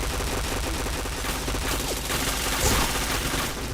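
In the shooter game Point Blank, loud, dense gunfire rattles nonstop in rapid bursts, with the shots blurring into a continuous barrage and no pauses.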